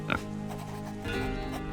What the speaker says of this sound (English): Oink oink.